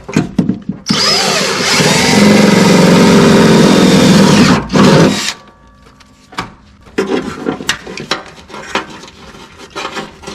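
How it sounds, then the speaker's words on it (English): A power drill bores a hole while mounting a PCM bracket during an LS engine swap, a loud steady whine running about four seconds, a brief second burst, then quieter clanks and handling noises. "Drill a hole."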